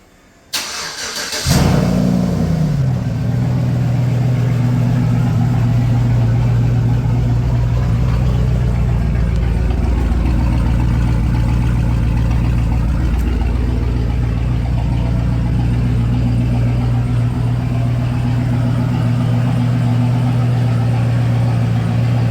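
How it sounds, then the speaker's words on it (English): A 2007 Chevy Tahoe with a 5.3 V8 and an Ares cold air intake cold-starts in a garage: a brief crank, then the engine catches with a flare and settles into a steady, loud, close idle. "Alright, so there's a cold start on it."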